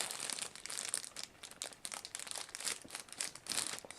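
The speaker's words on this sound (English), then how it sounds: "As you can see, it's come in a plastic bag," Plastic bag being crinkled and pulled off the main fuselage section of a Skymarks Airbus A321 model in Thomas Cook livery; continuous close, crisp rustling and crackling with irregular bursts, no voices.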